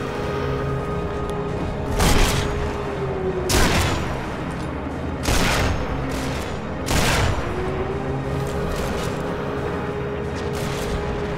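Sniper rifle shots in the World War II video game Sniper Elite V2 Remastered, four loud, sharp cracks about every one and a half seconds, each with a short echoing tail over a steady background hum.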